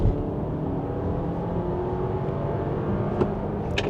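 An Audi Q5 hybrid in Sport mode accelerates hard from inside the cabin, a steady low drone and whir building evenly with no gear-shift breaks and a couple of faint clicks near the end.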